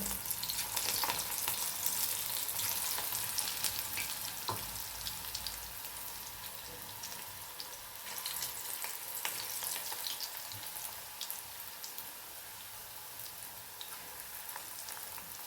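Moth bean dal bhaji deep-frying in hot oil, a dense, steady crackling sizzle that holds evenly throughout with no voices.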